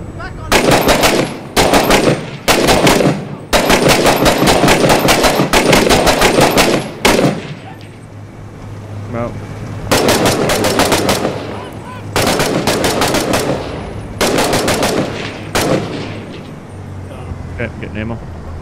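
Machine gun fire in the video game Six Days in Fallujah, loud rapid bursts repeating with short pauses between, mixed with occasional talk.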